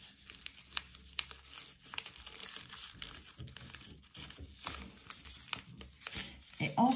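Paper being folded in half again while making a coffee ritual craft, crinkling and creasing in close, irregular bursts with a few sharper rustles, heard alone without talk.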